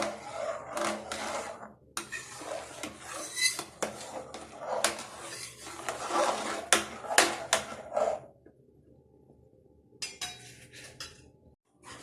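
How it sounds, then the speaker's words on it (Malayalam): Aval payasam is stirred in a pot, with a spoon scraping and clinking against the metal in bursts for about eight seconds, then near quiet before a short final scrape, close and with no talk. "വീണ്ടും ഒന്ന് ഇളക്കിക്കൊണ്ടിരിക്കും"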